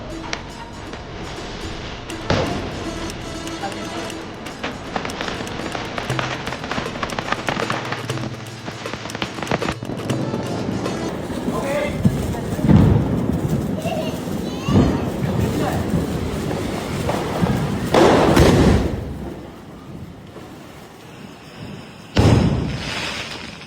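A 10,000-wala firecracker string bursts during Diwali celebrations, a long dense crackling barrage with loud bangs and thumps continuing for many seconds, with people's voices heard amid the noise.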